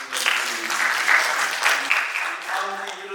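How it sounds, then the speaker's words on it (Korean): A church congregation at a Korean New Year thanksgiving service applauds in a steady, dense wash of clapping, with a few voices mixed in. "우리 큰 박수로"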